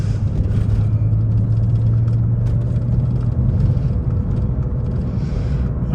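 A 1998 BMW Z3 M Roadster engine drones steadily from inside the car while driving on a road, a loud, continuous low rumble with a sustained hum and no voices.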